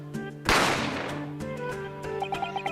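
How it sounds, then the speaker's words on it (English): A single sharp gunshot effect from the video game The Great Ace Attorney Chronicles, a loud burst that decays over a second or two into a tonal game soundtrack with chiming notes. "A gunshot rang out"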